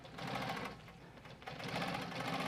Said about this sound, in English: we're going to go ahead and just start stitching